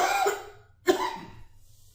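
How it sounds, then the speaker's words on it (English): A single sharp cough bursts out mid-clip, loud and close, trailing off into quiet room tone after a fading earlier sound. "I feel a cough coming."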